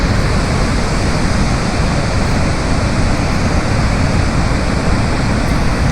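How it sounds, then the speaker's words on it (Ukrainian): Niagara Falls thunders in a steady, dense roar of falling water, loud and unbroken from start to finish with no voices over it. "А цей водоспад, Ніагарський водоспад це Канада."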